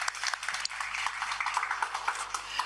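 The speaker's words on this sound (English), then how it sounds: "let's clap first" An audience at a presentation event applauds, a steady, fairly faint patter of many hands clapping throughout.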